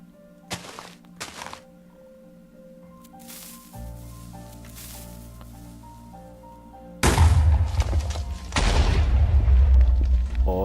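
TNT cannon blasts in Minecraft: quiet clicks and tones give way to a loud booming explosion, then a second heavy blast right after, both close and rumbling.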